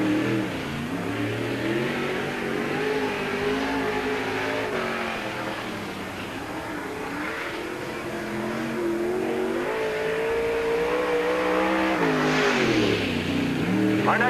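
Race car engine at Peoria Speedway during qualifying, revving loudly and continuously as it laps, with pitch rising and falling through the straights and turns and a sharper surge near the end.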